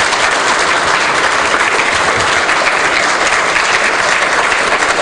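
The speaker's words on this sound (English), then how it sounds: "please give Kristina a big round of applause" A conference audience claps for a speaker after a talk, a dense, loud, even wash of applause sustained throughout with no voices over it.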